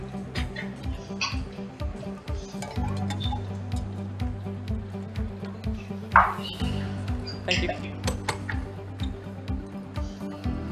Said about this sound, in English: please use your right hand spoon to stir the milk beverage 10 times clockwise